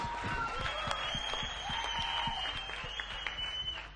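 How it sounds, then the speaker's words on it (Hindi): Congregation applause at a Maundy Thursday church service, steady hand claps with distinct sharp individual claps and thin high whistles running over the top, moderately distant and sustained without talk. "दोनों हाथों को उठा के ताली बजा के सीटियां जो भी चल रहा है"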